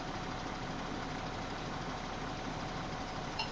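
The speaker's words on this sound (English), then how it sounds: "There's the tractor." A tractor idles in a farming video game, a steady low engine drone that stays constant and close, with no talk.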